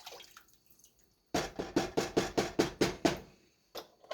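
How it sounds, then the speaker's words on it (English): Broth poured into a pot of clam chowder, a run of quick, evenly spaced splashy pulses close by after a quiet start, then a final brief pour. "I'm gonna add as much broth or liquid as I want"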